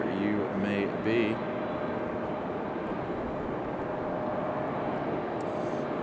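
A departing airliner bound for Detroit climbs out from Raleigh Durham airport, its steady broadband engine roar filling the background while a voice talks briefly at the start.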